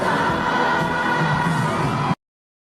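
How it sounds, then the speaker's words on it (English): A large concert crowd sings a song in unison, a dense, loud wall of massed voices that holds steady for about two seconds and then cuts off abruptly. "the crowd sings his song word for word"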